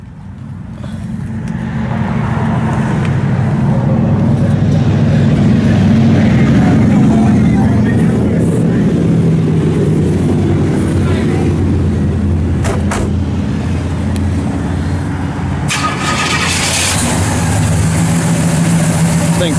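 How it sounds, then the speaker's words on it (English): A 1967 Pontiac GTO convertible's engine cranks and catches, then settles into a loud, steady, rumbling idle close by, with a few brief clicks and knocks partway through. "Thing fires right up."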